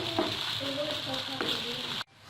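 Onion and spices fry in a pan for aloo shimla mirch with chicken, making a close, dense, continuous sizzle with a few stirring touches before it cuts off abruptly near the end.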